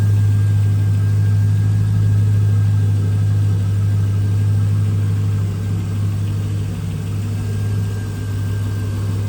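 A 2002 Chevrolet Camaro Z28's 5.7-liter LS1 V8 idles with a deep, steady burbling rumble through an SLP aftermarket intake and exhaust, loud and close.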